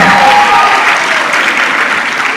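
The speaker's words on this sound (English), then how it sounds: "And another round of applause for the team from Senior Chief Adano" A crowd claps at a live event, a dense, loud burst of applause that stays steady throughout with no voices heard above it.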